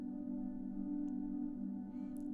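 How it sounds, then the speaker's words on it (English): A sustained, soft piano drone chord washed through the Valhalla Supermassive delay plugin, a steady atmospheric hum holding without breaks, quiet and alone. "And this is what the drone sounds like."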